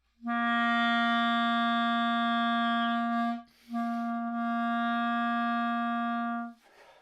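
A clarinet holds a single steady note using circular breathing, sustained for several seconds, then a brief dip and breathy break before the same tone resumes and holds again.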